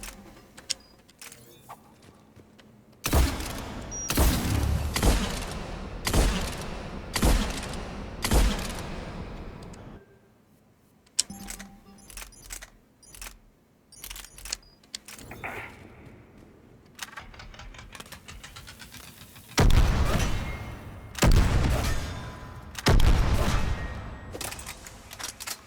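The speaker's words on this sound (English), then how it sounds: "Well, this is considered a shotgun. Really, what it does is it really just fires spikes. Big, nasty spikes." A shotgun that fires spikes in Mass Effect 3 lets off repeated sharp, loud blasts in clustered volleys, with quieter gaps and lighter clicks between bursts.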